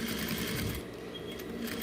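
A sewing machine stitches a closure tab onto the middle of a fabric vaccination booklet, running in a steady, close mechanical whir that eases slightly partway through.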